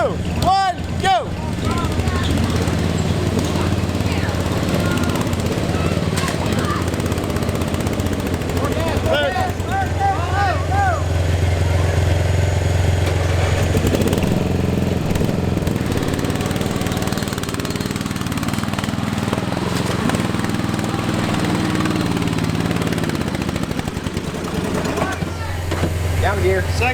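A tractor engine roars continuously as it drives through a mud bog at a tractor challenge event, loud and steady for the whole stretch with shifting pitch, while voices are heard over it.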